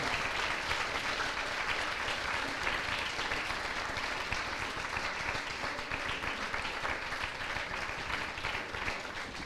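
A crowd at an eloquence contest final applauds continuously, many hands clapping in a dense, even wash heard from some distance, sustained without pause or voices.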